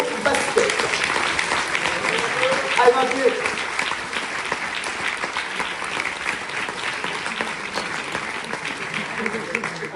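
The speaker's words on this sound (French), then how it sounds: "Merci d'applaudir les U18 de l'entente de Sud-Ouest Rhône Basket." An awards-night audience applauds an under-18 basketball team with a steady, lively round of clapping, and voices call out over it.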